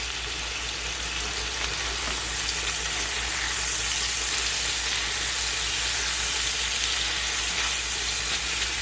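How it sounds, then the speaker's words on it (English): Browned ground turkey sizzles steadily in a hot pan over medium-high heat, a constant close crackling hiss with no voices. "our brown turkey has now been cooking for about 5 minutes on one side, so I'm going to go ahead and just turn these over"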